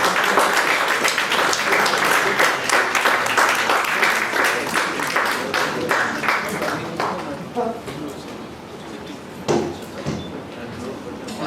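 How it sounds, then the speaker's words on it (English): An audience at a GST seminar applauds a speaker: dense, sustained clapping that gradually thins out and fades toward the end, with a few scattered claps lingering. "Can we have a big round of applause to the speaker, please?"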